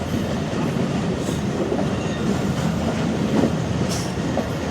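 Millat Express passenger train rolling through Sindh at around 40–50 km/h, a dense continuous rumble of wheels on rails with faint rhythmic clatter, heard from inside the carriage and without any talking.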